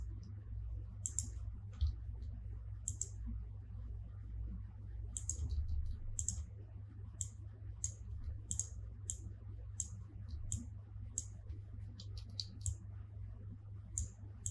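Sharp computer mouse clicks and keyboard key presses while drafting walls in Revit, scattered singly and in quick pairs over a steady low electrical hum, close and clear with no talking.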